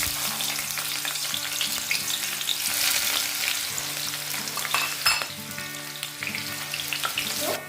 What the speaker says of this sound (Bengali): বেশি তেলে আমি প্রথমে পেঁয়াজটা ভেজে নিই